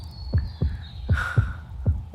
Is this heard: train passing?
no